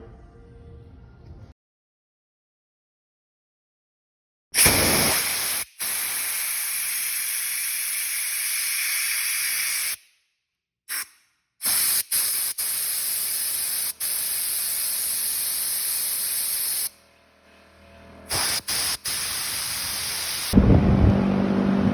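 Loud, steady bursts of aerosol cleaner hiss as they are sprayed onto the carburetor of a 2005 Honda CRF250R dirt bike, several long sprays separated by short pauses and silent gaps, with no talking.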